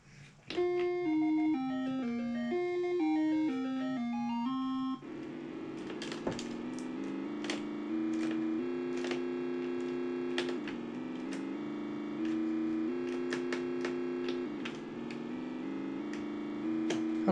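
Pole Position running on an Atari 2600 console, first a bright beeping tune of stepped electronic tones, then a steady buzzing engine drone that rises and falls in pitch, cut by frequent short clicks and blips.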